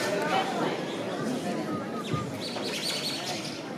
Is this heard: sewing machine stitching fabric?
no